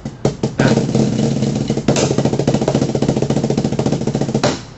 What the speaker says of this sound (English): I'm doing a double stroke roll, dude.